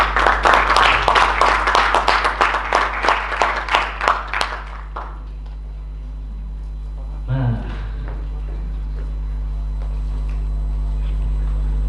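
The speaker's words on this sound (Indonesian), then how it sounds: "beri tepuk tangan yang meriah untuk Mas Christian" A small indoor audience claps to welcome a guest named Christian, with fairly rhythmic, distinct claps that thin out and stop after about five seconds, leaving near silence with a faint thump.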